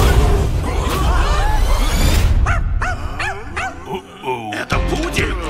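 A poodle barks and yips loudly in a Russian-dubbed film trailer, a rapid series of sharp barks following a busy whooshing stretch of music and effects.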